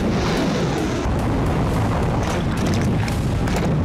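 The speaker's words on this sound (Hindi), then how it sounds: "समंदर में धमाके गूंज रहे हैं।" Explosions boom at sea during Russian naval submarine exercises, a dense, continuous rumbling roar of blasts with sharper bursts layered throughout.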